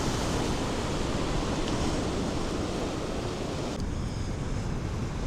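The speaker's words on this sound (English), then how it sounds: "The ocean isn't so exciting today." Ocean surf at Pouch Cove, a steady broad wash of small waves with wind noise across the microphone, continuous and fairly loud with no voices, easing slightly near the end.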